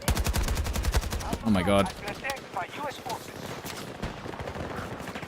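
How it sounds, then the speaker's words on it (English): AK rifle gunfire in the Battlefield video game, a rapid burst of close, sharp shots in quick rhythm at the start, with a player's voice talking over and after the shooting, followed by scattered fainter shots. "Am I just using this AK wrong, or is it because I'm moving and shooting, maybe?"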